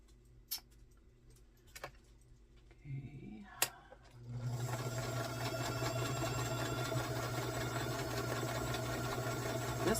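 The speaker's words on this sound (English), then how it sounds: "So now I'm going to sew the last one on the top, and then I will iron these" A sewing machine stitching quilt block pieces, starting after a few soft clicks and handling noises, then running steadily and close with a fast, even whir for the remaining six seconds.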